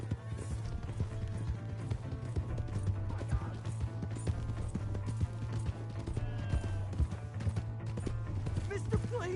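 A horse gallops in Red Dead Redemption with continuous rhythmic hoofbeats under a steady low rumble, close and moderately loud, with game music and effects layered in.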